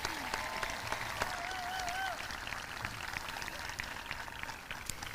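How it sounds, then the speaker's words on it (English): An audience at a high school graduation ceremony applauds. Steady, dense clapping fills the hall for the whole stretch, with faint voices mixed in beneath it. "Yeah, we'll take an applause for that."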